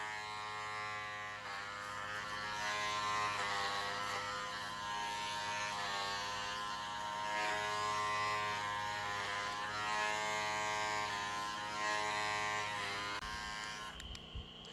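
Electric hair clippers buzz steadily during a self-haircut, a close, continuous drone with slight shifts in pitch as they move through the hair, stopping near the end.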